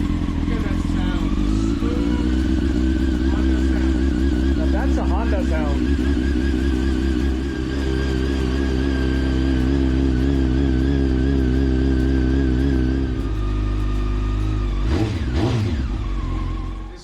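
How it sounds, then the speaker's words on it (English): A Honda motorcycle engine runs smoothly at a steady, even idle with a slight rev in the middle, loud and close, with a brief extra clatter near the end. "Look at that sound, smooth Honda sound."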